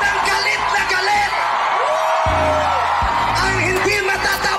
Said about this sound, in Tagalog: Sumigaw lahat ng galit.